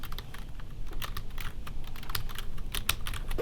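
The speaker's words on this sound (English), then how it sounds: "So I'm going to type on my document." Rapid clicking of keys on a computer keyboard while typing into an online document, with steady, close taps and no talking.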